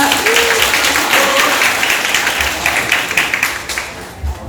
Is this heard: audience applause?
yes